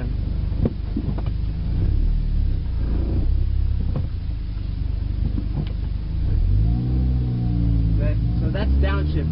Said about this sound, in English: So downshift is push in the clutch, go into the lower gear, roll off the clutch